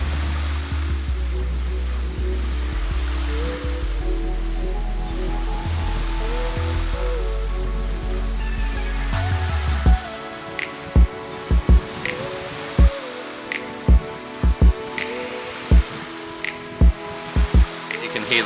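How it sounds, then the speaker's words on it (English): Waves break onto a pebbly shore in a steady broadband wash with sharp clicks and crackles from the stones, while someone talks over the surf and a low engine-like hum fills the first half. "You can hear the sound of the waves crashing onto the pebbly shore here behind me"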